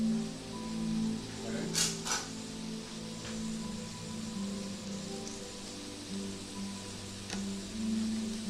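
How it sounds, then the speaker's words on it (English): Mushrooms sauté in a pan with a soft, steady sizzle, broken by a couple of brief clinks or scrapes near the two-second mark, and no one talking. "Saute those up a little bit, a little parsley dried in there."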